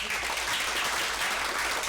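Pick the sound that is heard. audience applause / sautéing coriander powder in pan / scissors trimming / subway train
audience applause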